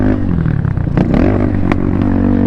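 A dirt bike engine revs hard on a soft sandy motocross track, loud and close with a continuous buzzing drone that rises and falls in pitch, with brief clattery bursts.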